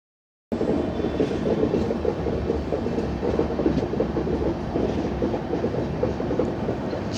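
Loud, steady rumble of an Indian Railways express, the Howrah Superfast Express, passing close by, dense rolling roar with faint rail clatter running unbroken for about seven seconds after an abrupt start.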